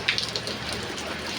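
Steady rain falls continuously, a dense, even hiss with a few brighter drop patters near the start.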